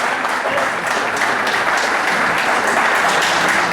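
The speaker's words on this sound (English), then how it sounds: "Mike Bayless, ladies and gentlemen, a warm round of applause." Guests at a surprise 60th birthday party give a warm, steady round of applause, many hands clapping close and loud.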